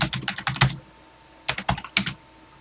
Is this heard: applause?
no